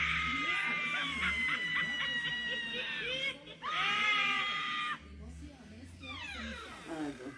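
A loud horror scream sound effect plays as a prank meant to frighten a mother, a shrill wavering high-pitched wail in several long drawn-out cries, with people talking faintly underneath.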